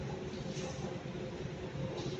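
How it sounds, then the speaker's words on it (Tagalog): A steady, diffuse hum of ambience fills Labrador MRT station, a rail platform with a constant broadband rumble and no distinct events. "Labrador MRT Station."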